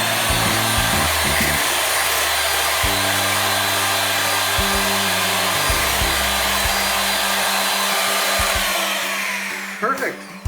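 An electric mixer whips cream with a loud, steady motor whine whose pitch steps up and down a few times before it switches off near the end.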